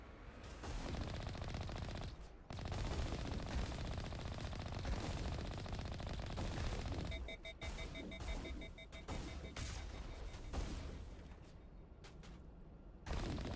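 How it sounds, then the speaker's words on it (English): The Mako vehicle's cannon firing at enemies in the sci-fi game Mass Effect: repeated loud blasts and rapid bursts of gunfire with explosive impacts, interspersed with short beeping alerts, continuing through the whole stretch. "I always like shooting little guys with the Mako."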